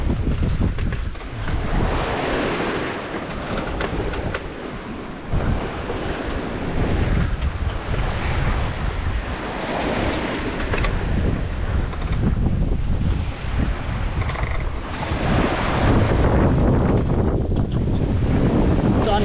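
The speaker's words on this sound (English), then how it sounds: "there's some quite big ocean swell forward of the beam, which is slowing us down." Wind buffets a sailing boat on an ocean passage as a big swell surges against the hull. The roar stays loud and continuous, swelling and easing in waves with heavy microphone wind noise and no talk.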